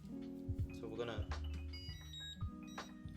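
An electric cooker emits a few clear electronic beeps in a home kitchen while someone talks over them.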